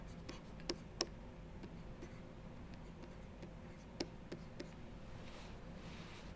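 An equation is written by hand during an engineering lecture, heard as faint scratching strokes and a few sharp taps against a quiet room hum, with no talking.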